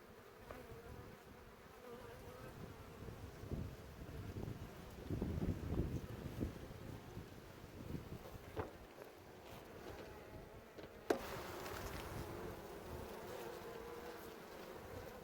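Honey bees drone inside an open hive during winter preparation, a dense continuous buzz with some wind noise on the microphone and one sharp knock late on.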